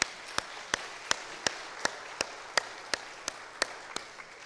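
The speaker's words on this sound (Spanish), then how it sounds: "Un aplauso al Espíritu Santo." Steady, evenly spaced hand claps ring out in a church during a Pentecost sermon, about a dozen sharp unison beats at a brisk, regular pace over a faint background hum.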